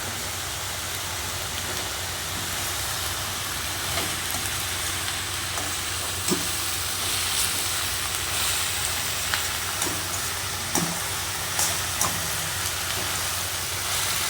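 Onions sautéing in a pan with turmeric and curry leaves for a potato masala, a steady close sizzle running throughout with a few faint clicks of stirring.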